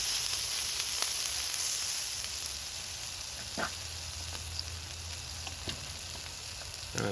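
Cooking oil sizzles on an outdoor griddle at night, a steady, even frying hiss broken by a few faint clicks and taps, with no voices.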